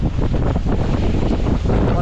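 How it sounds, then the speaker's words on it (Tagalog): Strong typhoon wind during landfall roars and buffets steadily against the microphone, a dense, continuous rumble with no pauses. "Grabe lakas ang hangin"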